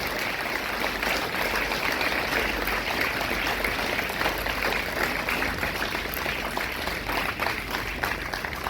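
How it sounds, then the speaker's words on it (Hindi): Sustained applause from a large crowd welcoming a chief guest at a formal event, a dense, even wash of clapping that continues steadily without any speech. "तालियों के साथ आज के इस महफिल के चीफ गेस्ट का स्वागत करें"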